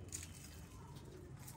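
Pigeons in a breeder's loft coo softly at a distance over a steady low background hum, with a few faint higher calls.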